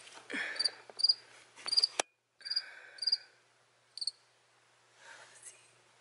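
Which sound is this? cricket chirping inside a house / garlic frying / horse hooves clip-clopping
cricket chirping inside a house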